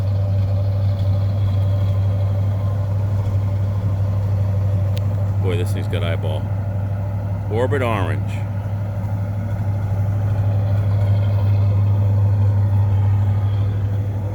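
A freshly restored 1970 Pontiac GTO with a 400 engine and 4-speed idles high and steady, a deep continuous rumble that runs throughout while someone talks briefly over it.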